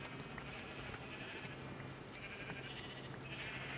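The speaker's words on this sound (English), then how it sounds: "It is getting very crowded in this sheep pen" Sheep in a crowded pen in the Minecraft video game, bleating repeatedly in short, steady, fairly faint calls over a continuous background hum.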